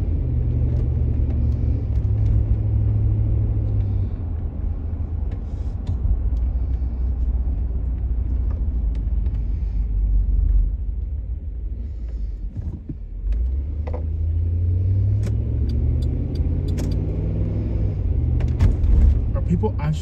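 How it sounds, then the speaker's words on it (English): A car drives through a stop sign on a street in East St. Louis at night, a continuous loud low engine rumble with creaks and mechanical noise, while people talk. "That car went right through."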